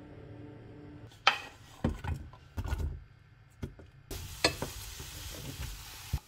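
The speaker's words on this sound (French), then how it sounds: "Puis je fais revenir oignons d'abord." Onions sautéing in olive oil in a pan, with a soft sizzle under scattered clinks and stirring scrapes, several sharp knocks of a utensil against the pan, and a brighter sizzle rising near the end.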